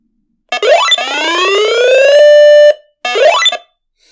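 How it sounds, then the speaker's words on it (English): The warning alert of a Uniden Bearcat WX100 weather radio blares loud and close: one long rising electronic sweep that settles into a steady tone and cuts off, then a second short burst. "the warning, has a weird sound, and this will generate the red one"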